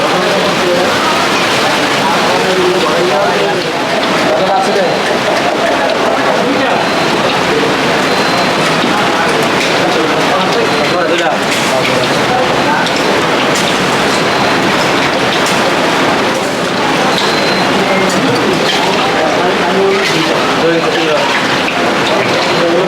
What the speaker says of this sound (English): It's raining outside, guys. Check this out. This is Bangladeshi rain.